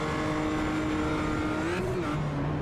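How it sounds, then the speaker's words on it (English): Race car engine on board at the Nürburgring during an amateur league race, loud sustained engine drone with the revs rising and briefly pinging off the limiter as the wheels leave the ground. "you hear the revs ping off the limiter for a moment as all 4 wheels leave the ground"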